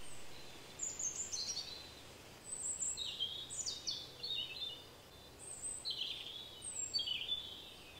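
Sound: birds singing in the woods by a chateau

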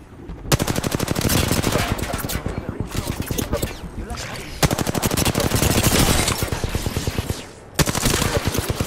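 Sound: gunfire in Apex Legends video game

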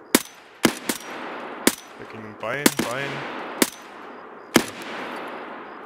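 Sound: gunfire with tracer rounds in Escape from Tarkov video game

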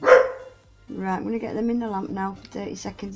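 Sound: dog barking

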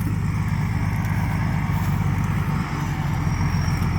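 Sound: farm tractor engine running

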